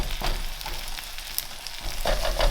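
Eggs, salty bacon and sausages sizzling together in a pan for breakfast fried rice, a soft continuous crackle with small pops and a louder burst of sizzle near the end.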